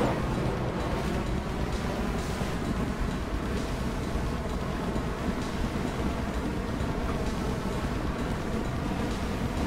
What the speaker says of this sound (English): As we break the surface,